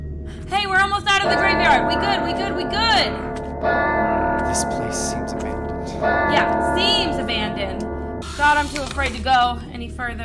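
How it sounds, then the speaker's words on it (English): A bell ringing like a school bell in the horror game Madison, with reverberant, echoing tones that repeat across the clip under and between stretches of talk. "It's a bell, I think. Oh, that makes sense, like a school bell."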